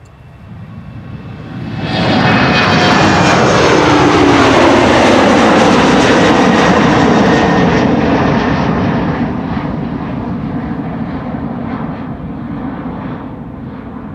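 A KLM flight to Aalborg, operated by German Airways, departs runway 36L, the Polderbaan, at Amsterdam Schiphol in windy weather. Jet roar swells sharply after a quiet start, peaks loud and close with falling engine whine, then slowly fades.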